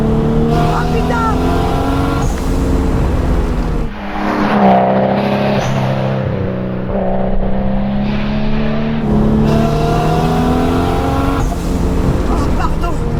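A Nissan Skyline R33 GTS25T, a restored JDM car, drives hard with a loud, close engine note that climbs and drops through revs and gear changes, with a brief lift near the middle.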